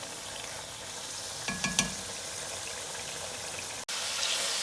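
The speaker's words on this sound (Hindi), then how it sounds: "अब बस आपने इसकी भुनाई करनी है और तेज़ आंच पे करनी है, ये देखिए।" Chicken karahi fries hard on a high flame dhaba-style, a continuous dense sizzle with a few quick metallic stirring clicks midway and one sharp knock near the end.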